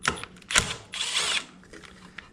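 A power screwdriver or drill backs out screws from a Stihl HS80 hedge trimmer, with short close whirring bursts and a longer run of buzzing before it falls quiet.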